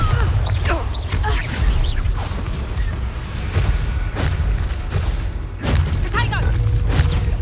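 Booming spell blasts and crashing impacts from Hogwarts Legacy combat fill a dense, loud mix with rumbling low thuds and whooshing effects, while a character voice shouts spell names over the action.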